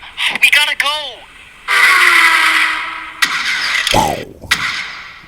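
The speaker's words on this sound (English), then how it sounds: "It's all car noises." Car engine noises in an electronic music track, revving and sweeping in pitch, with bursts of broadband mechanical roar and a sharp falling whoosh, loud and continuous over about five seconds.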